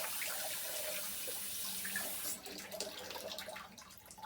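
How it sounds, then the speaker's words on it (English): Running tap water splashes steadily as a part of a Bialetti Moka Express moka pot is rinsed under a kitchen faucet, loud and close, easing off slightly partway through. "Okay, quick rinse over here."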